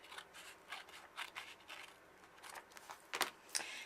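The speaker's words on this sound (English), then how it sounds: "with the scissors I'll just cut off whatever excess there is." Scissors snip through paper in a series of quiet, crisp cuts, irregular in rhythm, close by with no talking.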